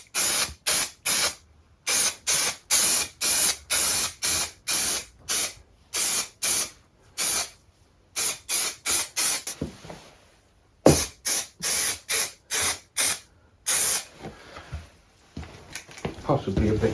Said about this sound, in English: I'll spray the back of the material as well.